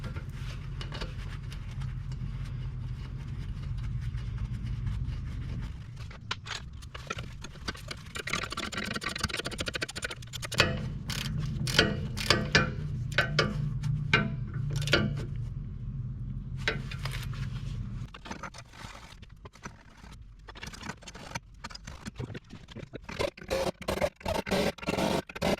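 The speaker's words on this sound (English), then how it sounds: "I'll put this little bolt back in here and tighten it up." A bolt is tightened on the suspension of a 2009–2018 Ford F250 Super Duty pickup during a spring install, with bursts of close ratcheting and scraping clicks over a steady low background hum and no talking.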